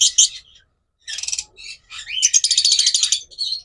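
A DNA-sexed pair of pet birds offered for sale chirps close by in bright, rapid bursts of tweets, separated by short silent gaps.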